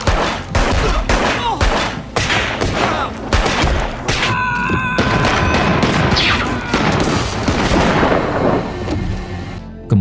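Dense bursts of gunfire and booming impacts fill a film shootout, loud and nearly continuous, with rapid overlapping shots and a faint voice underneath.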